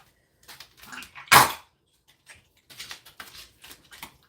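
A puppy indoors lets out one loud, sharp bark amid softer rustling and patter, followed by scattered faint scuffling sounds.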